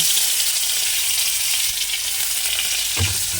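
Garlic cloves fry in hot oil with five-spice tempering, bay leaf and dried red chilli, a loud continuous sizzle close up, with a brief clatter of stirring near the end and no speech.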